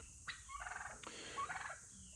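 Turkeys on a farm gobble in two rapid, rattling bursts, fairly near and clear against a quiet outdoor background with no talking.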